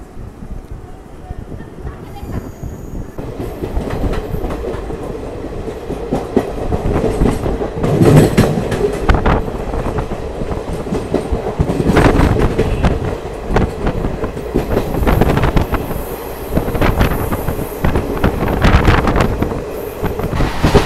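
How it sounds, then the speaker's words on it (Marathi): Train rumbling along rails with a steady clickety-clack and occasional wheel squeal, heard from a long-distance Pune to Ayodhya rail journey; continuous and fairly loud, with voices talking over it. "तिकडे एक ट्रेन चालली आहे बघा."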